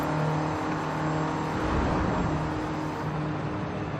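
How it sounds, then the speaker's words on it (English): Mini John Cooper Works GP engine with stock setup in a racing video game, a steady droning hum under load with a brief surge midway, continuous and fairly loud with no talk. "Really authentic sounding car. Sounds really good with the stock engine."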